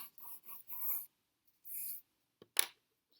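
Pencil scratching on paper in short, quick bursts of strokes, close and fairly quiet, with pauses between and a sharp tap near the end.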